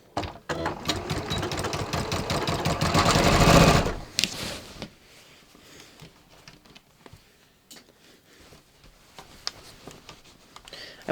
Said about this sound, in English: I'm going to just sew these darts really quick and easy.